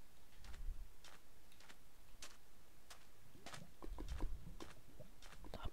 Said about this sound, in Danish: Så skal vi også fange os en hest